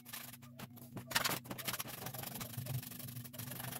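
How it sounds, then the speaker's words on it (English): A hacksaw cuts through a scale exhaust pipe with quick, rhythmic rasping strokes close by, fairly quiet, the rubbing scrape repeating steadily with short pauses. "Once you get that started, the hacksaw will just cut right through this."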